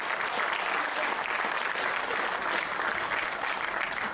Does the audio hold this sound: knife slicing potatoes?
no